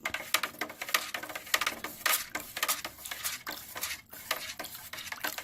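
A utensil stirs a very thick plant nutrient solution in a container, giving a steady run of quick clicking, tapping scrapes, close and fairly loud, with no talking over it.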